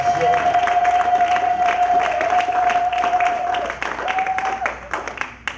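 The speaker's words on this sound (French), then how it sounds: "Est-ce que nous pouvons honorer la parole par des acclamations?" A church congregation bursts into applause and acclamations, dense clapping mixed with cheering voices and a sustained sung or shouted tone, loud at first and then tapering off toward the end.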